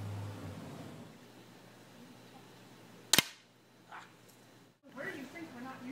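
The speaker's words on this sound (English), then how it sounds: "we're gonna shoot this little lighter" A single sharp gunshot cracks out at a small lighter target outdoors, sudden and brief against quiet background noise, then faint rustling follows.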